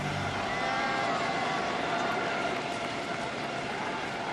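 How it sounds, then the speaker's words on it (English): Broadcast sound from the 2008 Beijing Olympics windsurfing race, with Israeli windsurfer Shahar Zubari: a dense roar of wind, water and crowd noise that stays steady and loud throughout, with no clear voice standing out. "That is the sound of Israeli windsurfer Shahar Superi in the 2008 Beijing Olympics"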